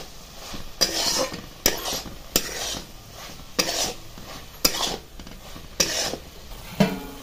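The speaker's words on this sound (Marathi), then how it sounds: "पुन्हा एकदा हलवून द्यायची आणि शिजू द्यायची भाजी" A spatula stirs a vegetable curry with dal in a pot, making about seven distinct scraping strokes at an even rhythm. Each stroke is loud and close, with a soft simmer between them.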